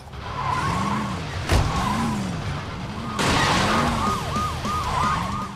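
Police car sirens wailing in Saints Row 2, a rising and falling siren joined partway through by a second higher siren, loud over car engine noise with a brief sharp skid or crash.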